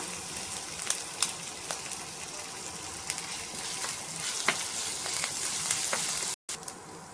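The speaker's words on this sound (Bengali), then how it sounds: "তেল গরম হয়ে গেছে, দিয়ে দেব থেতো করে রাখা আদা" Crushed ginger frying in hot oil for a spiced singara filling, a steady close sizzle with scattered crackles and pops running throughout.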